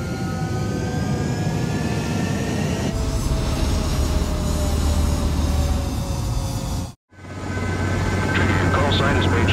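A fighter jet in the flight game Ace Combat 7 roars steadily at full power on the runway for takeoff, a loud continuous engine rush with whine, cut by a brief drop to silence before resuming, with game radio voices over it.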